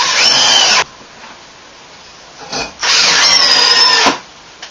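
Power drill driving screws into wood during a bathroom remodel: two loud, sustained whirring bursts, each roughly a second long, separated by a quieter gap with a brief clunk between them.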